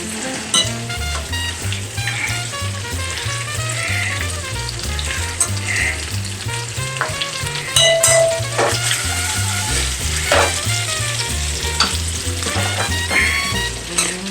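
Loud, continuous sizzling and bubbling as sticky ribs are stirred through a thickened sauce in a hot pan, with scattered clinks and scrapes of the utensil throughout.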